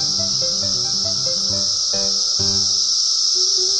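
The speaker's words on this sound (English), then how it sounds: "This is a cicada." A steady, high insect drone hums continuously, with a low tonal hum underneath throughout.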